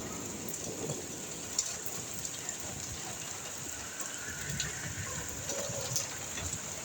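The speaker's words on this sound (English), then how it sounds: "There's a lot of wind from the rain." Heavy rain with gusting wind falls steadily, a dense hiss of splashing drops close by, continuous and unbroken with no voices.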